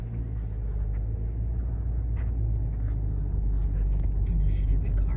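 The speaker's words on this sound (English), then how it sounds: "This stupid car is barrel-assing up behind me." A car comes up fast from close behind, its engine rumbling low and steady and growing slightly louder throughout, with no voices over it.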